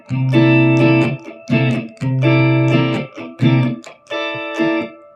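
An electric guitar strums a standard 12-bar blues in C, with slightly distorted chords in a loping shuffle rhythm, several bursts separated by short gaps, close and alone.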